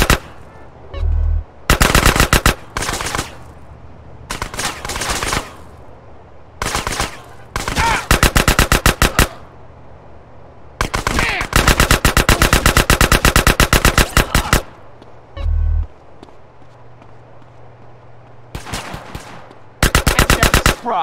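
Video-game gunfire from GTA San Andreas: repeated loud bursts of rapid automatic shots, several long sustained volleys separated by brief pauses, close and with no talk.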